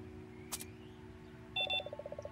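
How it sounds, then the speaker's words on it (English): Security card reader giving a short electronic beep pattern, a faint burst followed by a quick, regular series of soft bleeps, quiet and alone. "You pass the security card over the reader. It makes a subtle beep"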